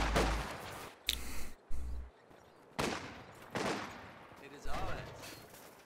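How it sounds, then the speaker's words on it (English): Machine gun fire in Company of Heroes 2, coming as several separate loud bursts with short gaps between them, with a voice talking over the battle. "Machine gun pushing up."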